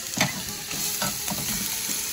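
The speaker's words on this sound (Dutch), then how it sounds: "Ik heb een ui fijn gehakt en die ga ik eventjes bakken in wat olie." Chopped onion sizzling and frying in hot oil for a beef stew, a steady crackle with a few stirring scrapes, close and fairly loud, no talking.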